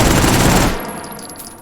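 Full-auto burst from a Mauser C96 broom handle pistol with a stick magazine in the VR shooter H3VR, a loud rapid rattle of shots for under a second, then a fading echoing tail.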